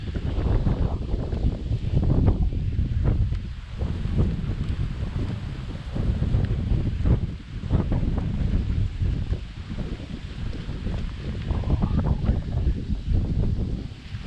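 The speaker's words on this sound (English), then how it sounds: "See how the GoPro does in the wind." Wind buffeting a GoPro microphone at an island resort in Belize, a continuous loud rumbling roar with gusty swells and dips and no voices.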